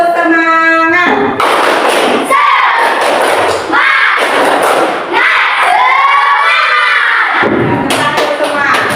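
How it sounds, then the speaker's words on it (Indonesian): A classroom group performs a tepuk semangat clapping chant during an icebreaker, with loud shouted chanting voices and bursts of rhythmic clapping filling the whole stretch, close and energetic, with short pauses between phrases. "Tepuk semangat."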